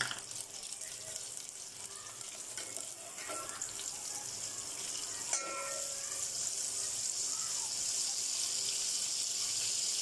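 Ghee or oil heating in a handi pot on the stove, giving a steady soft hiss and faint crackle that grows slightly louder toward the end, with a few small clinks and no talking.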